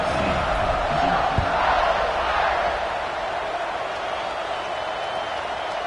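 Football stadium crowd before kickoff gives off a broad, roaring swell of cheering that eases to a steadier distant din, with a faint thump partway through.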